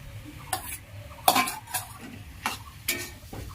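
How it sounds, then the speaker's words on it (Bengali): Mashed boiled potatoes are stirred into a banana flower filling in a pan, with several distinct scraping and clinking strokes of a utensil against metal at irregular intervals, close and moderately loud, without talk. "সেই আলুটা এখন এর সঙ্গে মিশিয়ে দিচ্ছি"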